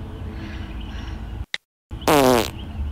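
A cartoon fart sound effect blasts out after a brief silence, one loud, buzzy, wobbling burst about half a second long. A low noisy bed comes before the silence and nobody speaks.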